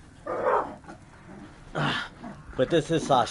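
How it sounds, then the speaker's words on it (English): An old dog named Sasha, upset by another dog in the room, gives short growling barks and yips near the microphone, with someone talking between them. "You can hear her, like, being crazy right now because the other dog's in the room"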